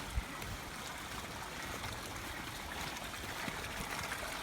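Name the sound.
floodwater flowing down a canal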